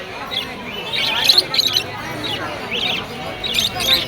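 Many small birds chirp and tweet in quick overlapping bursts at a bird market in Mirpur 1, bright and fairly close, over a low murmur of crowd noise.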